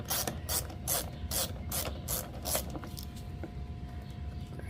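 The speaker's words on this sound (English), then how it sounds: "we'll remove first the bolt for the air filter cover" A hand ratchet loosens the bolt on the air filter cover of a free Craftsman lawn mower. Several quick, close clicking bursts come in a steady back-and-forth rhythm, then slow to a few isolated clicks, with no talking.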